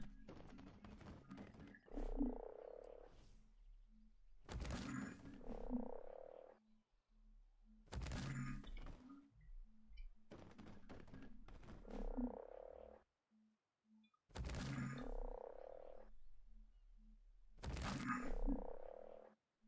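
A Beelzebufo, the giant prehistoric frog in the game Ark: Survival Evolved, gives deep repeated croaks in short bursts separated by brief silences, loud and close, with no talk over it.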